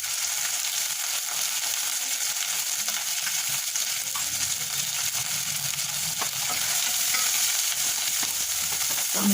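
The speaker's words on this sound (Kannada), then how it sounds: "ಫ್ರೈ ಮಾಡಿಬಿಟ್ಟು" Capsicum and mushroom curry with ginger-garlic paste sizzles and fries steadily in a pan, with a spoon scraping and stirring in occasional soft knocks throughout.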